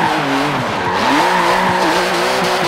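Car sliding and drifting in Forza Motorsport 7, a mid or rear engine rear-wheel-drive car, with steady close tire squeal and a shifting, revving engine drone that rises and falls throughout.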